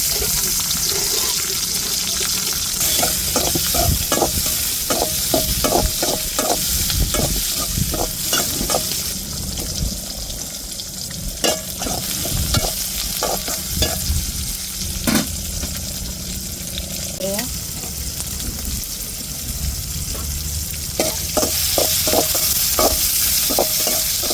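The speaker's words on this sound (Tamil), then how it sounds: "இப்போ தக்காளி மிளகாயை சேர்த்துக்கிடுவோம்." Onion, tomato and chilli being stir-fried in a pan, a loud steady sizzle broken by rapid rhythmic scraping and tapping of a spoon against the pan in repeated bursts.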